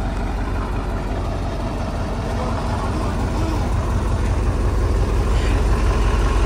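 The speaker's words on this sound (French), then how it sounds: "On a redémarré les moteurs." Motorhome engines, just restarted, idle steadily on a road trip, a continuous low rumble at close range that holds an even level throughout.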